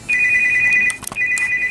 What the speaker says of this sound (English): Ooh, a phone call early.